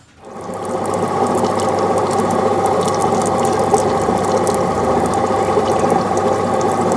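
An opal being trimmed on a lapidary saw, a steady loud mechanical whir and grinding hum that starts abruptly and runs continuously, close up with no talking.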